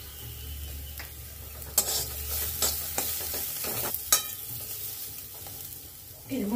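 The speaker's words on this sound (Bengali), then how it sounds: "পেঁয়াজগুলো ভেজে নেব। পেঁয়াজটা অনেকটাই ভাজা হয়ে এসছে।" Chopped onions with a pinch of turmeric frying in a pan, a steady close sizzle broken by several sharp clicks and scrapes as a spatula stirs and knocks against the metal.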